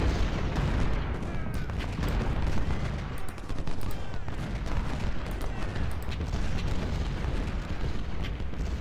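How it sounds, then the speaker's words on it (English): Musket volleys and cannon fire in the Ultimate General: Civil War game at the Battle of Shiloh, a dense, loud, unbroken crackle of rifle fire with booming artillery, steady throughout and without talking. "open up another line of fire on Jackson, because McKean just can't hold, not under this fire"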